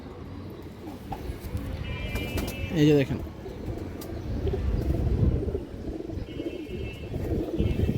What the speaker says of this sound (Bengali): দেখেন পুরোনো ব্র্যান্ডের কবুতর